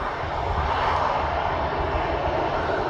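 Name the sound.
Ryanair airliner engines turning onto active runway, East Midlands Airport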